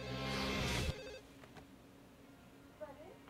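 A telephone rings in the No More Heroes video game: a loud electronic ring cut off after about a second, followed by quiet background with brief faint sounds.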